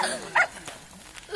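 A dog barks once sharply on ice during a playful game, the bark short and fairly close, surrounded by faint scraping and background chatter from people.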